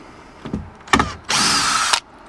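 A power drill backs screws out of a bench seat in short bursts, two brief whirs followed by a longer sustained run, loud and close with no talking.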